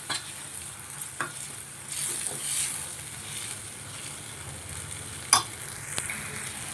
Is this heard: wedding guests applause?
no